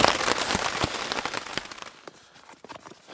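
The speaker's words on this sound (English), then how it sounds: "it's still raining" Rain patters on a tent at Algonquin Park on a fall weekend, a dense, close spray of drops that thins into sparser, irregular taps toward the end, with no talk.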